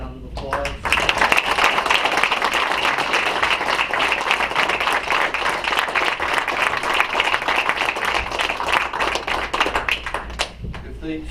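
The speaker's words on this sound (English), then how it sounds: "let's give these kids a round of applause" Applause fills a city council meeting chamber as Taylorville FFA students are honored, steady dense clapping from a sizable crowd for about ten seconds, starting and ending fairly abruptly.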